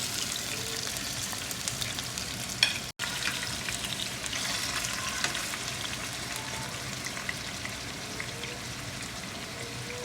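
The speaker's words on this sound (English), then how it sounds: "we're just going to brown them in this oil" Oxtail pieces brown in hot oil with a steady, close crackling sizzle that carries on throughout, with one brief knock and a momentary dropout early on.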